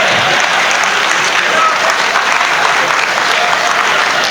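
Audience applause at a Hindi comedy poetry show, a dense, loud, continuous roar of many hands clapping, steady throughout with no break.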